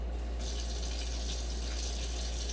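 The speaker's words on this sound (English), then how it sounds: "And you have to add water" Water runs steadily from a sink tap into an empty can while making taco chili, a continuous close hiss and splash with a slight change in tone as the can fills.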